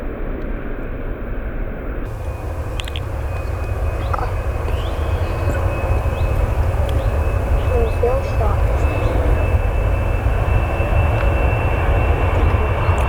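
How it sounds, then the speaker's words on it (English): A Virgin Airbus A330 jet departs Manchester Airport, its engine roar building steadily from moderate to loud and sustained as it accelerates for takeoff, with a person speaking briefly at the start. "that's the Virgin Airbus A330 service to John F. Kennedy"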